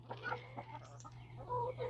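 Chickens, including a young rooster, cluck softly in a coop, a few short, low throaty calls close by over a steady low electrical hum.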